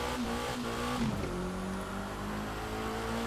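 A race car engine in the video game The Crew 2 roars steadily with a rising pitch as it accelerates, the tone dipping briefly before climbing again.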